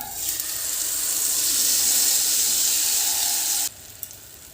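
Potato batter goes into hot oil with mustard and white sesame seeds, and a loud, steady hiss and sizzle rises right away. It cuts off abruptly near the end, leaving a quieter background.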